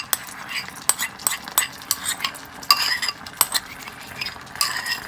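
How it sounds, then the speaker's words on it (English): Shrimp in a creamy sauce being stirred in a pan, a utensil knocking and scraping against the metal in irregular clicks over a faint sizzle, close and fairly soft. "So now we just, stir it up."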